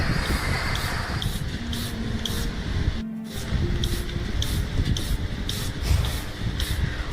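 Bursts of water spraying repeatedly in short hissing pulses, with one brief pause near the middle, fairly close and loud over a busy background.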